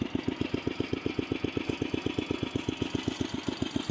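A Sears Suburban mud mower's engine idles low and slow, thumping out an even, rapid chugging pulse close by with no talk.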